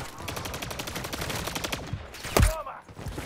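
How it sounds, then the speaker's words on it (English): Rapid automatic gunfire in Call of Duty Modern Warfare 3, a fast steady rattle of shots for about two seconds, then one heavy loud blast with a brief ringing tail; faint voice underneath. "Someone's shooting me on the right side over there."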